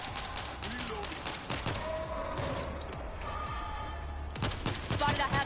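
Repeated bursts of gunfire crack through a World War Z zombie-shooter match in New York, rapid shots and automatic volleys clustered in clumps, with voices calling out between the shots.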